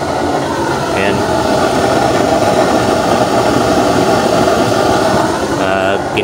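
A small 5-volt electric blower powered by an ordinary power bank runs as a steady, loud whirring drone throughout, with a brief higher click near the start and again near the end.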